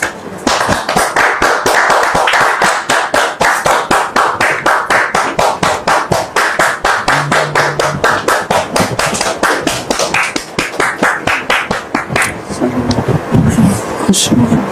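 An audience on a French-language talk show claps in a loud, tightly rhythmic unison beat, fast regular claps filling most of the stretch before loosening into scattered clapping with some voices near the end.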